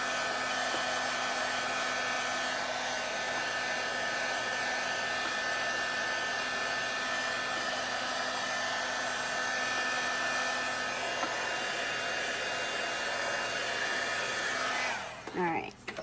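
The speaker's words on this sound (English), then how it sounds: "I'm just going to dry it real quick so I don't rub off the ink when I'm putting other elements onto the card" A hair dryer blows steadily to dry ink on a handmade card, a close, continuous whooshing hum that runs at an even level for about fifteen seconds before clicking off.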